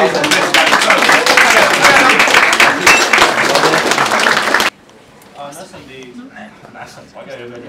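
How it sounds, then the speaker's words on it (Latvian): A theater audience at an improvisation show claps to welcome the improvisers back on stage, a loud, lively round of applause that cuts off abruptly, followed by quieter room sound and a voice speaking. "mēs pasauksim atpakaļ arī improvizātors, sagaidām ar aplausiem"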